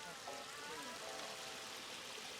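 Water flowing through a natural water feature in an English front garden, a soft, even trickling wash, heard quietly with faint voices underneath.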